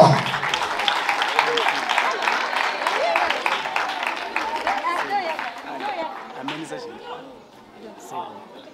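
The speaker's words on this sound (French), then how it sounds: "On applaudit pour elle." An audience at a school awards ceremony claps steadily and loudly while voices chatter throughout. The clapping thins out and fades toward the end.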